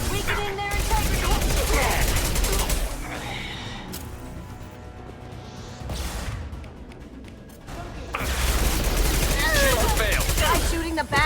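Rapid bursts of gunfire from a firefight in the video game Mass Effect 2, loud and dense, with quieter gaps between volleys and voices talking throughout.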